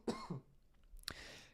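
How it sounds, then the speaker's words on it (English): A single throaty cough, sharp and close, followed by a brief burst of a second harsher cough or throat clear, then quiet. "I don't know where that cough came from"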